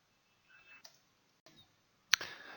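A computer mouse clicks in a software program, giving a few quiet, sparse clicks followed by one sharper, louder click near the end, heard alone without talk.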